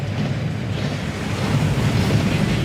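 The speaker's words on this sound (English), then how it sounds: "That waterfall washes away all enchantments." A waterfall roars steadily in Hogwarts Legacy, the torrent that washes away enchantments: a loud, close, continuous rushing wash of water with a low rumble, unbroken and without speech.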